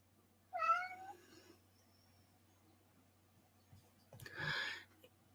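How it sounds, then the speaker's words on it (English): A cat gives a drawn-out, rising meow, then after a pause of quiet a second, rougher meow follows, both close and clear. "I hear Billy giving us his sing-song goodnight."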